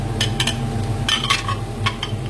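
Onions and sausages are stirred together in a hot frying pan, with a few sharp utensil scrapes and clinks against the metal over a low, steady sizzle.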